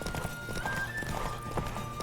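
Horse hooves clip-clop with a neigh in The Witcher 3, set among game music and clatter, steady and moderately close throughout.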